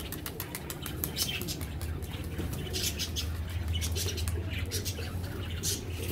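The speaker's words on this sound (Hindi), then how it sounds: "ये कबूतर बहुत ज़्यादा हैं" Pigeons kept in a loft in Karachi, with soft wing flaps, shuffling and light pattering from several birds close by, busy and continuous over a low background hum.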